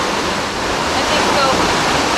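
A waterfall in Taytay, Palawan, gives off a steady, loud, broad rushing roar of falling water with no breaks.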